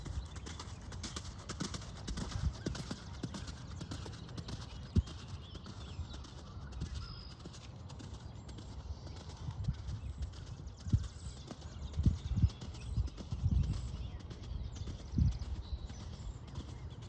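Horse hooves canter in a steady rhythmic clip-clop on an arena surface during a riding lesson, fairly near and continuous, with occasional louder footfalls and faint background voices.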